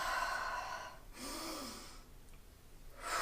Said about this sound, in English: So take a breath